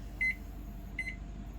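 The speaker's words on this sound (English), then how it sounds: "I'm just going to put them in the microwave" A microwave oven hums low and steadily, with two short electronic beeps cutting through at intervals, heating homemade soft plastic fishing worms.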